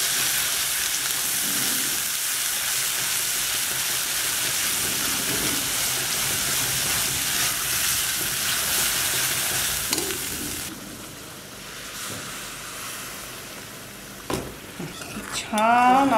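Ground gravy goes into hot oil with cumin for a coriander dish, giving a loud, close sizzle with stirring, which drops to a softer bubbling before closing clatters of the pan.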